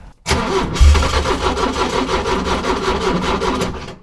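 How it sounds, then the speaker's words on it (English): A car engine cranks repeatedly with a rapid, rhythmic churning from the starter for several seconds, up close, without catching because the fuel pump is not priming, then stops. "I'm just gonna try to start the car."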